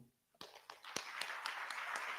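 Faint, scattered clapping from the audience at an induction ceremony for newly qualified doctors and dentists starts after a brief silence, a few distinct claps building into a thin, quiet patter.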